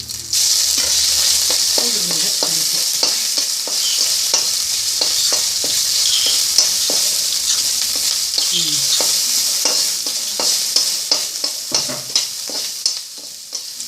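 Ginger garlic paste sautéing in a pan after a couple of cloves for dal panchali, a loud continuous hiss of hot oil broken by frequent quick spatula scrapes and stirs, with no voices.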